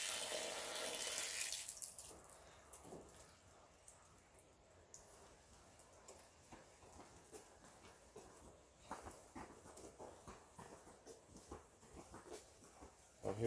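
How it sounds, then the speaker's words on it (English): A dog moves and whimpers faintly near a rain tank setup where water runs and trickles steadily, with a loud gush at the start and scattered small noises throughout. "My dog Hank"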